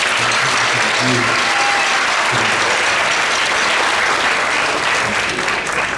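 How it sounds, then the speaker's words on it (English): A big round of applause sweeps a school auditorium at a sixth grade middle school band concert, loud, dense and continuous clapping from a full crowd with a few voices mixed in. "one big round of applause to everybody up here, showing their music"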